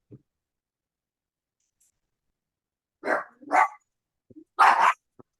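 A dog barks in a few sharp bursts, two close together and then a louder, longer one, with short quiet gaps between them; the barks sound near and stand alone without talk.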